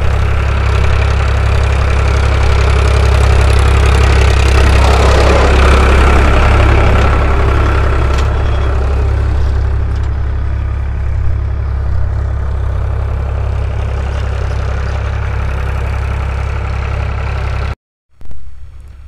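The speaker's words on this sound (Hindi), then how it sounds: "देखिए फ्रेंड्स, ये जुताई हो रही, एक बांव हो गया है, दूसरा बांव" A tractor engine drones steadily and loudly with a heavy low rumble while plowing a farm field, holding constant for most of the stretch before cutting off abruptly near the end.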